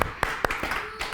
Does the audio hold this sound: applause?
yes